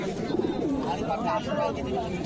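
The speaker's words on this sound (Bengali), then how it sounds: "এখানে একটি লাল কবুতর ডাকাডাকি করছে, খুব ফুর্তিতে আছে কবুতরটি" A red pigeon at Beldanga market coos in soft, repeated throaty calls close by, with other market sounds and a voice underneath.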